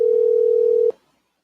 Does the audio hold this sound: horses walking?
no